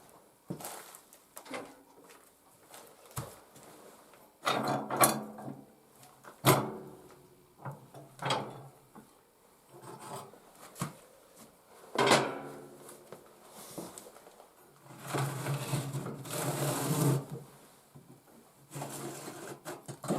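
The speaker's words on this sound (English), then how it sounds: "Got a tray underneath it for all the ashes. So you just pull out the tray and go and dump it" A woodstove's ash tray is pulled out and handled, with a series of clunks, scrapes and metallic rattles close by, including a longer sliding scrape near the end.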